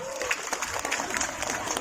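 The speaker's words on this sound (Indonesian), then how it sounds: "Tepuk tangan buat semuanya." An audience at an Islamic sermon in Taiwan claps in a dense, steady burst of applause that fills the whole stretch. It is loud and fairly near, with crowd murmur mixed in.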